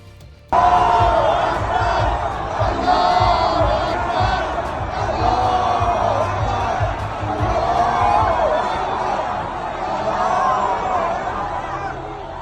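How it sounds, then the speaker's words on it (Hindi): Crowd in a Tehran street on Quds Day loudly chanting Nara-e-Takbir slogans in unison, a dense roar of many voices sustained throughout after a brief quiet start. "नाराए तकबीर बुलंद करते ये हजारों की तादाद में लोग"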